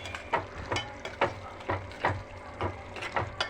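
Fish and tomato curry being stirred in a pan, with regular scraping strokes about twice a second over a low sizzle, close and moderately quiet.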